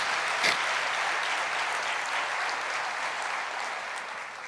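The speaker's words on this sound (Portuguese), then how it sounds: "pode aplaudir, porque ele merece" Congregation applause during a church sermon, steady dense clapping from a large crowd lasting several seconds and slowly fading slightly, with no speech over it.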